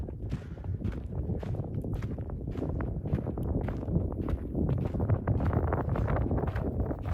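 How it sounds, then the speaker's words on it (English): Wind gusts buffet the microphone in low rumbling bursts on an open plateau, with rhythmic crunching footsteps on the ground beneath, no talking. "Nice and windy up here on the plateaus"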